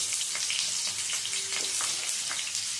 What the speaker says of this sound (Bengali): ডিমগুলো ভেজে তুলে নেওয়ার পরে এই তেলের মধ্যে দিয়ে দিচ্ছি আলু।